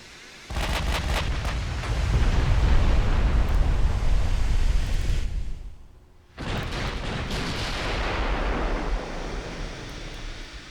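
Battleship Nagato firing all of her guns in the naval game Ultimate Admiral: Dreadnoughts, heavy rolling booms and rumble swelling into a sustained roar, a brief drop near the middle, then another loud thunderous salvo building again.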